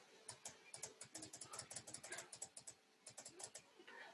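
Rapid computer mouse clicks while retouching an image in Photoshop, a close, quiet string of crisp taps in quick uneven bursts with a short pause near the end.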